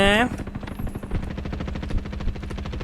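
Rapid automatic gunfire from the Roblox Frontline shooter game, a steady machine-gun rattle running through the whole stretch with occasional louder shots, under brief talk at the start.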